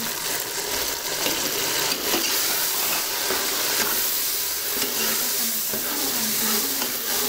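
Chopped tomatoes frying in browned masala for chicken biryani, giving a loud, dense, continuous sizzle with faint stirring, close up and steady for several seconds.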